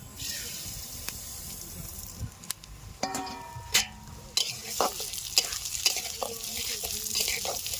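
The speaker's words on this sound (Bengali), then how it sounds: "এবার তেলটা গরম হয়ে গেছে, এবার ডালটা ভেজে নেব" Lentils hit hot mustard oil in a wok and are stirred, starting quiet and then rising into a crackling sizzle with repeated scraping strokes and sharp spatters.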